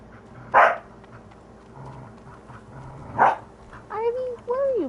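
A pet dog named Ivy gives two sharp, separate barks a few seconds apart, then short whining yips near the end, over quiet background sound.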